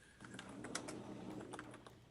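Keys clatter in quick, irregular bursts as someone types on a computer keyboard during a NASCAR-themed online talk show, close and fairly quiet with no voices.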